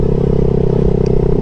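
A motorcycle engine runs on a hill road at Makapaya Hills in San Andres, Quezon, producing a loud, close, steady low drone that holds even for the whole moment.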